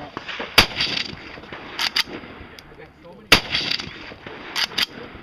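Rifle gunshots at a practical rifle match ring out outdoors: two loud, sharp cracks about three seconds apart, each trailed by fainter steel-target impacts and echoes.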